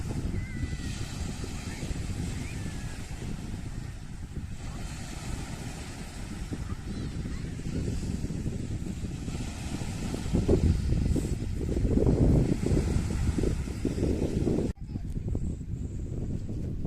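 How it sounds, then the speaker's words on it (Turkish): Sea waves washing onto a pebble beach at Folkestone, a continuous soft wash with surges building louder toward the end, mixed with wind noise buffeting the microphone, no talking. "Neyse ben susayım denizi dinleyin"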